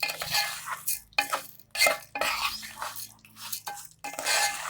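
Vermicelli frying and being stirred in a pot for Egyptian koshari, with steady scraping strokes of a spoon against the metal pot, several in a row, plus a faint sizzle underneath.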